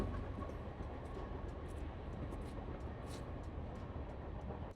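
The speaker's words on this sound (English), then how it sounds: "Don't mind the train in the background." A train passes in the background near a shop with a tow rig, heard as a steady, continuous broadband rumble with a rolling rail texture and faint high clicks, holding level throughout with no talking.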